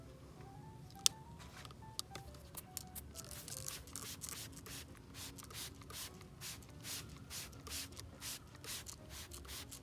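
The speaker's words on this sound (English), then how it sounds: "now I'm going to go ahead and spray the Never Wet." Never Wet fabric spray is applied to a mailbox bow in short repeated hissing bursts, a quiet string of close aerosol spurts, with rustling and handling of the ribbon and no talk.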